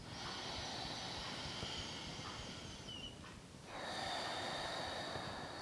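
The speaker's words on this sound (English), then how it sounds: "I'm making that same motion in my throat, but my mouth is closed and I'm breathing through my nose" Slow, steady breathing through the nose with a constricted throat, making a soft continuous hissing rush that dips briefly between breaths, close and quiet.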